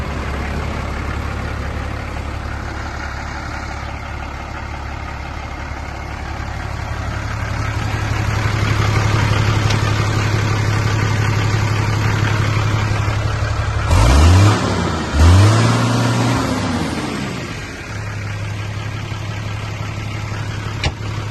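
A 2006 New Holland TS125 tractor's common-rail diesel engine runs steadily at a low idle outdoors, a deep rumbling hum throughout, with a brief revving surge partway through before settling back.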